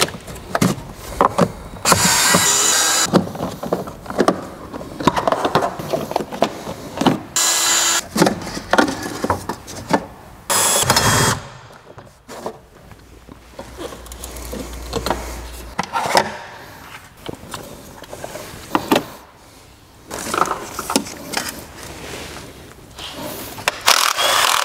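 Plastic engine covers are pried and pulled off a BMW in a workshop, giving irregular clicks, snaps, scrapes and rattles of plastic, with short bursts separated by quieter pauses and no talk.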